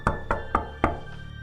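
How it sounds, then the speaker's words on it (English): Strange knocking heard deep inside a dark tunnel: four hollow, dull knocks spaced unevenly over a low, steady background hum, fairly close and distinct, with no voices. "Deep inside the dark tunnel, we started to hear a strange knocking sound."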